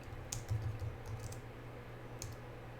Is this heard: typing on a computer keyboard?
yes